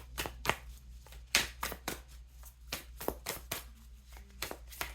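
Cards are shuffled for a crystal reading in a quick run of close, crisp riffling flutters and taps, irregular in rhythm, with no talk.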